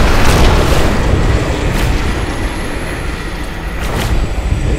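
A loud, sustained rumbling blast from an explosion skill in the video game Diablo Reaper of Souls, a dense roar filling the whole clip with a couple of sharper bursts.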